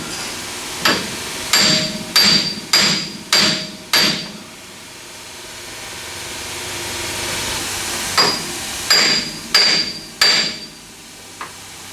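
Sharp metal hammer blows strike the suspension of a 1967 Pontiac GTO Convertible to loosen its tapered ball joints: a burst of six ringing hits, a pause, then four more, close and loud.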